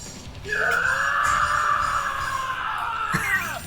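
An anime character in a Black Clover episode lets out a long, loud, sustained scream that holds steady for about three seconds before breaking off.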